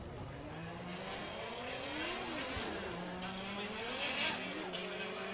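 Drift cars running qualifying laps at Ebisu for Formula Drift Japan Round 2, engines revving and rising and falling with tire squeal through the whole stretch, loud and continuous.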